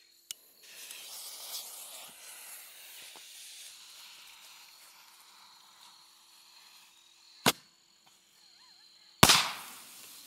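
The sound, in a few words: firework ball shell exploding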